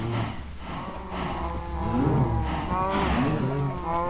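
Cattle mooing in a block-building video game on a farm, several overlapping low moos spread across a few seconds at moderate level with no talk.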